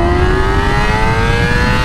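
A Yamaha R6 motorcycle engine screams at a high pitch steadily while downshifting, its pitch climbing slowly as it revs, loud and close throughout.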